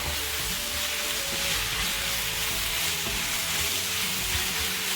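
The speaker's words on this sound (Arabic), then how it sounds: "صافي كنحرك هادشي مزيان" Chicken and vegetables being stirred in a hot pan, a continuous loud sizzle and frying hiss with faint scraping underneath, steady throughout with no speech.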